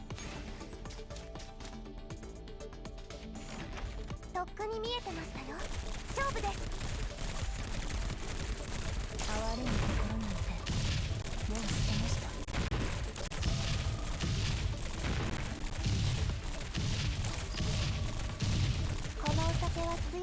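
Rapid gunfire from a handgun and a submachine gun in Girls' Frontline 2, dense overlapping bursts and shots running continuously for the whole stretch amid game effects, loud and busy.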